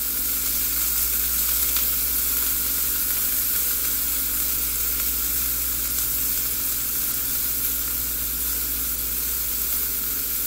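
Zucchini sizzles loudly in a stir-fry pan as it browns, a dense, unbroken hiss of frying oil that holds steady and close for the whole stretch, with no voices.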